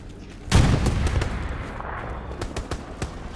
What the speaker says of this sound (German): Ich habe ihn mit der Panzerfaust ausgeschaltet.